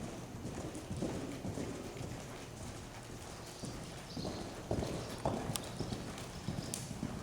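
A horse cantering in a riding arena: steady, rhythmic hoofbeats thudding at a moderate distance, fairly faint over background noise, with no talk.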